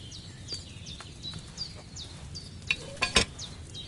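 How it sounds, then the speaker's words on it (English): A cauldron bubbles over a flame in the medieval game Kingdom Come, a low crackling simmer under repeated bird chirps, with a bright metallic clatter a little after three seconds. "Hear that bubbling? It's boiling."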